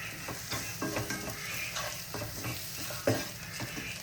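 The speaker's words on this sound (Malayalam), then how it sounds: "ഇത് നന്നായിട്ട് മിക്സ് ചെയ്ത് കൊടുക്കാം." Chicken sausage curry being stirred in a pan, with a soft, continuous sizzle under repeated scraping spoon strokes and one sharper knock near the end, close and with no talking.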